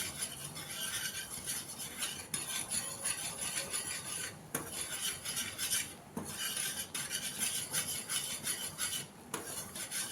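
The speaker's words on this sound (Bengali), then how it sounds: "এরপর এটাকে চালিয়ে ভালো করে, যাতে লাম্পস না থাকে সেরকম ভাবে এটাকে মিশিয়ে দেবো পুরো।" Steady scraping and stirring of a utensil in a metal pot as milk powder is mixed into a boiling sweet mixture, continuous rasping with a few brief pauses, close and fairly loud with no talking.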